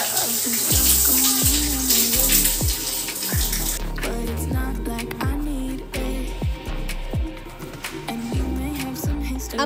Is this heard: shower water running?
yes